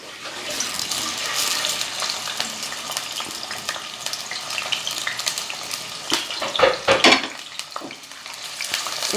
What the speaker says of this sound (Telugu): ఉల్లిపాయలండి కొంచెం బ్రౌన్ కలర్ వచ్చేదాకా ఇలా వేయించుకుంటానండి